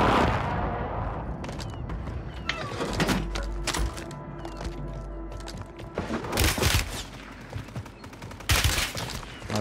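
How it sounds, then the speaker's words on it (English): Rapid automatic gunfire rattles in bursts in the video game Warzone, mixed with sharp cracks and thuds, with game sounds between volleys and a voice faintly underneath at times. "Just trying to shoot you from across the map."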